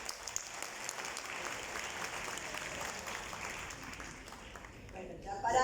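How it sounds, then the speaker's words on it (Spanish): Applause from an audience at a university foundation event inaugurating a new building, a steady, fairly faint patter of many hands that continues evenly before a voice cuts in at the end. "Aplausos."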